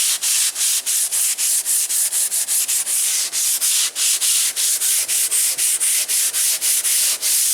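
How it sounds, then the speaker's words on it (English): Drywall mud being sanded by hand in quick, regular back-and-forth strokes, a loud close rasping scrape repeating about four times a second throughout. "the sanding went quick, 10 minutes, that's done"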